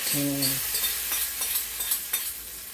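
Urad dal frying in hot oil for an adai batter, a bright steady sizzle heard up close with a few faint stirring clinks.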